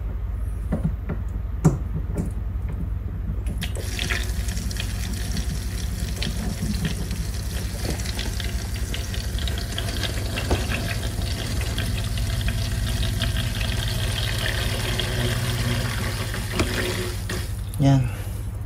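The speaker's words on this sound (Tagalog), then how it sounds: "Hinaan ko yan yung flow ng tubig." Water pours steadily into an aquarium tank with a constant splashing flow, a low motor hum underneath, and a few clicks and knocks.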